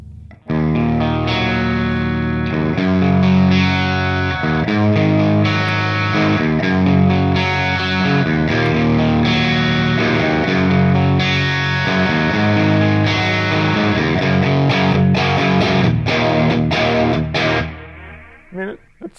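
An electric guitar plays chords and riffs through a Genz Benz El Diablo 100 amp with a light, gritty overdrive, its clean tone edging into mild breakup, steady and loud.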